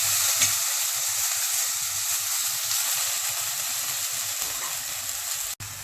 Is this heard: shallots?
yes